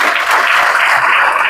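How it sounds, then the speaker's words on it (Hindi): Steady applause at a business meeting of a network marketing group, dense hand clapping from a crowd filling the moment evenly and loudly with no pauses. "एक बार ताली बजा दो रघुराज जी।"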